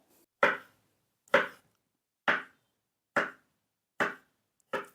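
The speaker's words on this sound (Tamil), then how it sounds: "சின்ன பீசஸாக கட் பண்ணிக்க போகிறோம்" Strawberries are cut into small pieces on a cutting board for a strawberry red velvet cake, six sharp, evenly spaced knife chops close by with near-silence between each stroke.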